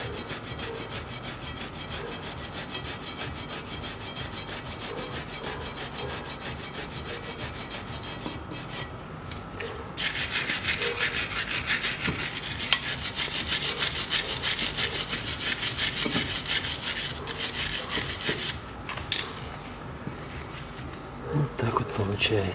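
Working surfaces of a brake caliper on a Land Rover Discovery 4 are cleaned during a front pad change, giving a continuous close harsh scraping and rasping that grows louder and denser in the middle stretch.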